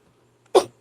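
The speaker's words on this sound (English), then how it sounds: "I still kind of have a cough" A single sharp cough from a nearby person, followed a moment later by a shorter second cough, in an otherwise quiet room.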